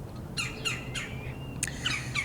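Birds squawk in a loud series of sharp, raspy calls, several in quick succession, close by over a steady low background hum, with no talking.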